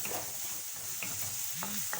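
Thinly sliced onion fries in a little oil for a baked pasta dish, a steady sizzle with occasional stirring scrapes close by, with no speech.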